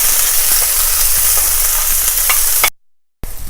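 Onions and ginger stirred and fried in a pan for aloo gobhi, a loud, steady close-up sizzle with light scraping stirs that cuts off abruptly near the end before resuming briefly.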